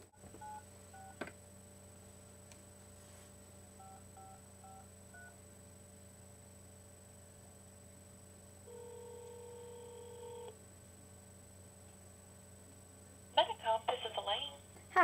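Telephone keypad tones beep in short bursts at a low level over a steady hum, followed by a longer tone and then a brief burst of ringing near the end.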